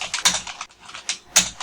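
Computer keyboard typing into a PowerPoint text box, a few quiet close-up key clicks in an uneven rhythm.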